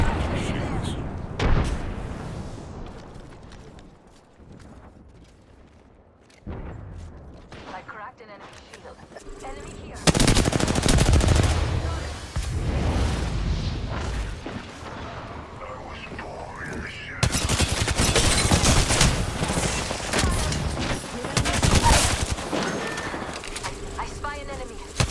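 Gunfire and a frag grenade in the Apex Legends battle royale game, with bursts of shots and booms that swell louder in the second half, under steady team voice chatter.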